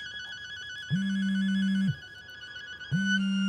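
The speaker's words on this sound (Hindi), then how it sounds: "मेरा फोन बज रहा है।" A mobile phone rings with an electronic ringtone, two long buzzing tones about a second each separated by a pause, steady and moderately close with no talking over it.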